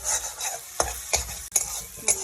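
Oil sizzles steadily in a pan while a spatula scrapes and stirs scrambled egg for egg bhurji in several distinct strokes, close and fairly loud, with no voices.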